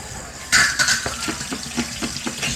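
Tap water runs into a sink while a rice cooker is washed, a steady splashing flow broken by soft rhythmic knocks and scrubbing of the pot, close and fairly loud, with no talk.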